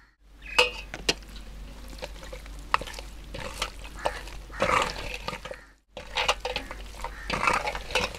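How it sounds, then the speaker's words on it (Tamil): Turmeric is stirred into meat in a metal pot, with a spoon scraping and clinking against the sides over a soft wet sizzle, in irregular bursts and a short pause; close, with no talking. "இப்போ மஞ்சத்தூள் போட்டு கிளறியாச்சு."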